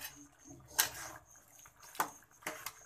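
A Kerala-style chicken curry stirred in a pot: a few quiet metallic clinks and soft scrapes of a spoon against the pot, spaced irregularly over low background noise.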